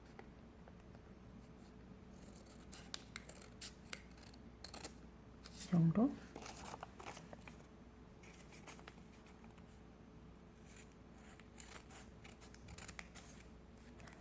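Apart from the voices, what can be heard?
scissors cutting colored origami paper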